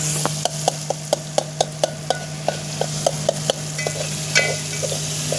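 Tomatoes sizzle in hot oil as a spoon scrapes the pan in a quick, regular stirring rhythm, close and clear.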